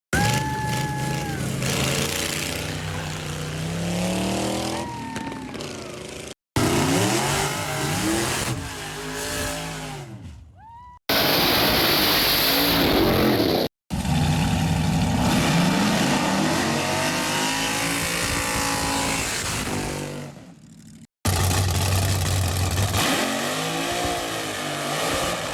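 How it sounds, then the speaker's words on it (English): Vintage flathead-powered drag cars race in several loud passes, engines revving hard and sweeping up through the gears, with abrupt cuts between runs and a roaring, close-up rumble throughout. "some vintage old-timey drag racing"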